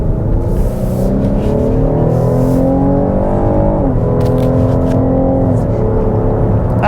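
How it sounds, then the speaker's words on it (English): A 2022 Cadillac XT6 SUV in sport mode pulls hard, its engine note climbing through the revs, easing briefly near the four-second mark, then rising again, loud and steady from inside the cabin with no talking. "All right, so let's go take it for a drive. I'm going to put it in mode, sport mode."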